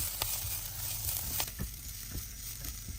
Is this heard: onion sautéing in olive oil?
yes